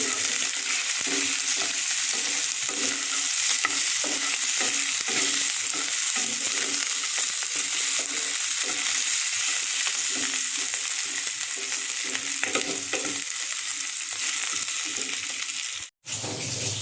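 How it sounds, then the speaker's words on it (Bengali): Boiled, mashed potatoes fry in a pan for a vegetarian paneer recipe, with a loud constant sizzle and rhythmic scraping stirs running throughout, close up, ending in a brief cut near the end; nobody talks. "সেদ্ধ করা আলুগুলি দিয়ে দিচ্ছি, দিয়ে একটু নেড়ে চেড়ে দিচ্ছি"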